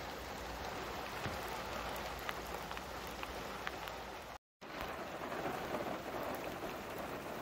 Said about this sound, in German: Also bisher ist hier echt nur Regen